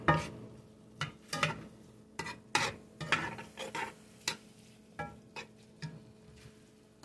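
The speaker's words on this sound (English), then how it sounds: "Stir that up while it's browning up." Ground beef with onions browning in a pan while a spoon scrapes and stirs it, sharp irregular scrapes over a faint steady sizzle, close and moderately quiet, no voices.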